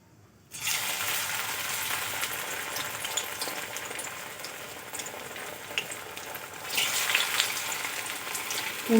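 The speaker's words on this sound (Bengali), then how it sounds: "এবার আমি ভেজে নেব তেলে।" Food fries in hot oil in a kadai on a gas stove, a dense continuous sizzle close by that rises sharply at the start and swells again near the end, with no voices.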